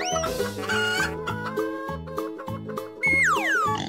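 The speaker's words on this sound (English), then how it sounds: "chicken," A chicken clucks in a quick series of short, bright calls that break into a rising, squawking cackle near the end, close and clear with no talking.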